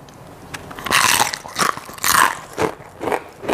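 Crispy shrimp peyek crackers made with cornstarch batter and tiny dried rebon shrimp bitten and crunched close up, several sharp crackly bites with chewing between them, no talking.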